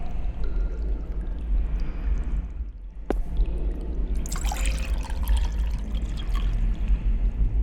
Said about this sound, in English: I've collected some water in the pot.